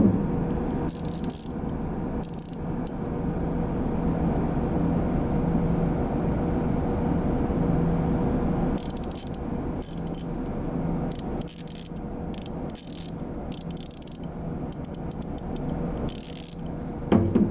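Teng Tools ratchets clicking in a hand demonstration at a roller tool cabinet, bursts of quick ratcheting clicks at intervals over a steady mechanical hum.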